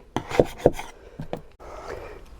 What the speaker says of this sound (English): Just getting around to sanding it.